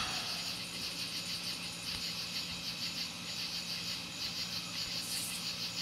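Steady insect-like trilling of crickets at night in a rural setting, a constant faint chorus running the whole time with no voices or other sounds.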